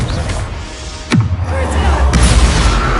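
A Confringo blasting curse exploding in Hogwarts Legacy, a sharp loud blast midway followed by a rumbling boom and continued crackling spell noise in a busy fight.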